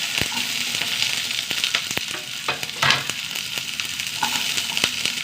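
Mustard seeds and onions frying in a pan, a steady close sizzle with light crackles and occasional stirring scrapes, no voices.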